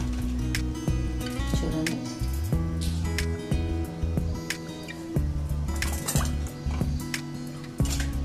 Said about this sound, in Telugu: ఇప్పుడు వీటిని తీసి మనం చల్లటి నీళ్ళలో వేసుకుని క్లీన్ చేసేసుకుందాం